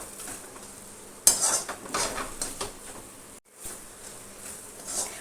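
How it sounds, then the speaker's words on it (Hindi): Petha halwa frying in ghee over medium flame while being stirred, with faint sizzling, a few sharp clinks and scrapes of a spoon against the pan, and a brief drop to near silence midway. "घी डाल दिया है हमने और इसको चलाते हुए 2-3 मिनट्स भूनेंगे"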